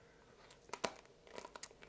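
Crisp crunching and crackling bites into soy-marinated hairy crab, a few close, sharp crunches in quick bursts with no talking over them.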